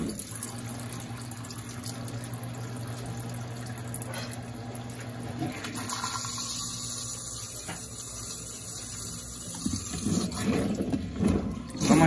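A Brastemp Eggo BWI01 washing machine drains water during its periodic cleaning cycle. Steady pump hum and flowing water run throughout and swell into louder gurgling toward the end.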